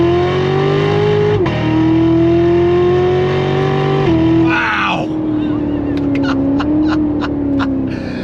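A Lingenfelter-tuned Chevrolet Corvette C7 Z06 with a reprogrammed 8-speed automatic accelerates hard from inside the cabin. A loud, steady engine roar climbs through two quick upshifts, then gives way to light ticking.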